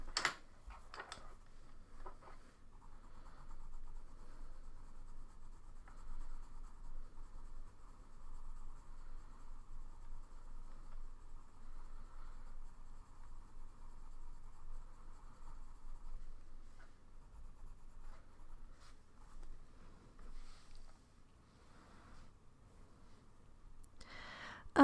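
Coloured pencils scratching across paper, a long steady soft scraping of drawing strokes with brief pauses and a few taps near the end, close and quiet.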